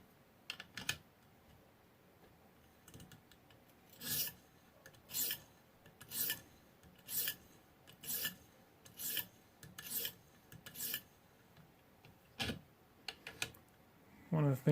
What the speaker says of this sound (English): One of the things I love about sharpening is that sound